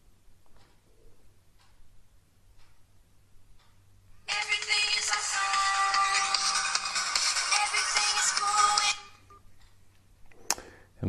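A modern basic dumb phone rings when called from a smartphone, a loud, steady electronic ringtone lasting about five seconds after a quiet stretch, then a brief click near the end.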